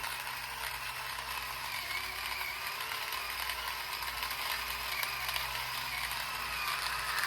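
Timemore Nuttii OX portable electric coffee grinder grinding beans with slow hand feeding, a close, continuous motor buzz with dense crackling burr chatter throughout, no talking.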